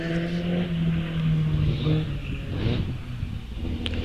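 A vintage GN special hillclimb car named Catipo with an 1100cc Austin engine drones loudly and steadily at Wiscombe Park, its tone shifting as it passes close by, then easing slightly.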